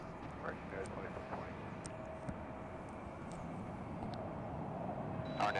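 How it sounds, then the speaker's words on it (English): Airbus A321 airliner of American Airlines at Dallas Fort Worth airport, heading for takeoff on runway 18 left: a steady, moderately loud engine roar holds throughout with a faint rising whine near the end, with people talking over it. "we take a look at American Flight 431, an Airbus A321 off to Phoenix there at the bottom of your screen"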